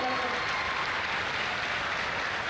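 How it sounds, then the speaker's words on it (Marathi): Students at a college youth festival prize-giving ceremony clap for their team managers, a continuous dense wash of applause from a large crowd, steady and fairly loud across the whole moment. "त्यामुळे सर्व विद्यार्थ्यांनी एकदा आपल्या संघ व्यवस्थापकांसाठी जोरदार टाळ्या वाजवायला."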